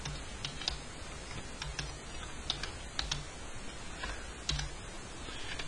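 Keys clatter on a computer keyboard in quick, uneven bursts of close, light taps with short pauses between them, heard alone without any talking.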